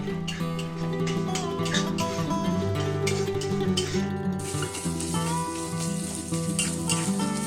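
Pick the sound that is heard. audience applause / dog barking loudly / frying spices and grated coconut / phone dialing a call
frying spices and grated coconut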